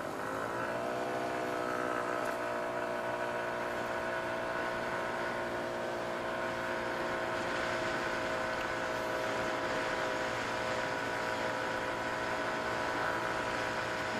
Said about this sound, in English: I've got her about half throttle now, and it's picking up speed.